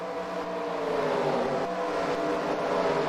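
Race cars roaring around an oval in NASCAR Racing 2003, a steady loud engine drone with layered pitches from a pack of cars, no talk over it.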